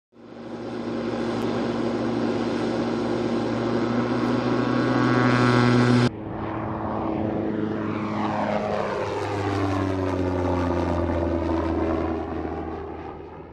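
MQ-9 Reaper drone with its propeller engine, a loud steady buzzing drone passing close by, its pitch dropping sharply as it flies past and then trailing away.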